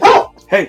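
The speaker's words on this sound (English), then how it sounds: "that's my dog" A dog gives two quick, loud barks close by, with a voice speaking briefly at the same moment.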